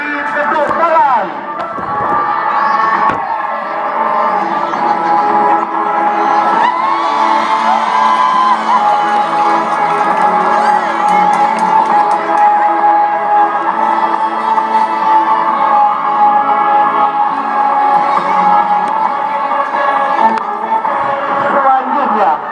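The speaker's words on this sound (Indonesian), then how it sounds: "Beri tepuk tangan." An audience at a school fashion show with a heroes theme cheers and shouts loudly, a dense crowd roar with whoops running nonstop for over twenty seconds, with music and voices mixed in throughout.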